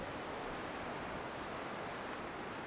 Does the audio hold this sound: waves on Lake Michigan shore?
yes